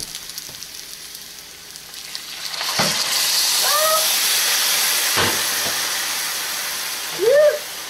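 Steam hisses from a pot as chicken broth is added to chicken and sausage risotto, a broad soft rush swelling midway, with a couple of sharp clicks and brief high voices in the kitchen.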